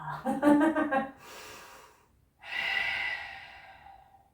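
Slow breaths during a yoga exercise: a long, airy exhale that fades, a pause, then a steady breathy inhale that trails off, close and alone.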